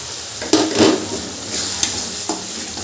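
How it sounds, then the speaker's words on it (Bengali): Bengali spice masala for katla fish kalia is sautéed with poppy seed paste in a pan, a soft sizzle broken by several scraping stirs and light clinks of a spatula against the pot. "পোস্ত বাটাটা দিয়েও আরও একটুখানি আমি কষে নেব।"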